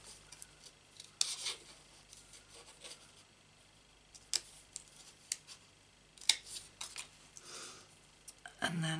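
Scissors snip paper while a stamped craft shape is trimmed, several short crisp cuts spread irregularly over a quiet background, with a voice speaking faintly at times.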